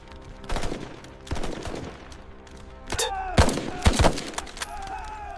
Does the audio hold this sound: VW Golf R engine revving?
no